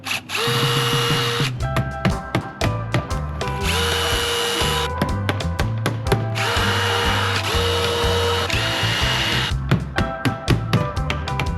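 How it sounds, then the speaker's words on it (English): A power drill whines loudly in several sustained bursts, drilling holes in a garage door frame, stopping and starting between holes, close by with no talking. "drill all the holes in, and then just reinstall the nails"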